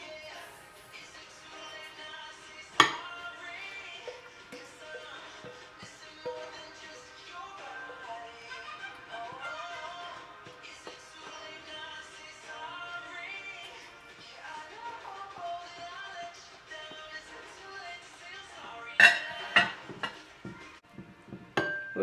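Omelette mixture goes into an 8 by 8 square baking pan, with faint scraping and soft clinks of a utensil against the dish and a few sharper knocks, heard near and quiet.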